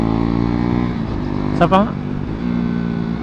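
A KTM Duke 390 motorcycle idles steadily, then gives one short sharp rev that falls away quickly, close by, while someone speaks briefly.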